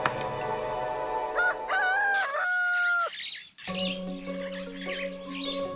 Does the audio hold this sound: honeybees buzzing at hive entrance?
no